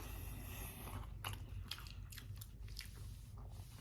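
Wendy's fries are bitten and chewed close up in a few quiet, soft crunching bites over a low background hum.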